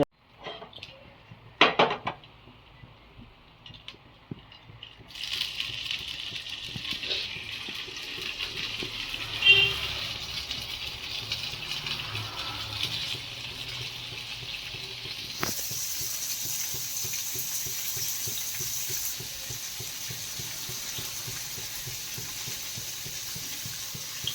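Potatoes roast in a pan on the stove: a couple of clattering knocks first, then a continuous hissing sizzle that grows louder partway through and holds steady, close by.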